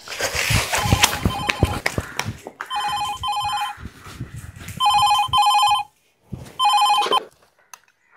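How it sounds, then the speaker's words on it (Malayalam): A telephone rings in repeated double bursts of bright electronic trills, each separated by short silences, after a few taps and footsteps at the start. "ഫോൺ അടിക്കണ്ടല്ലോ."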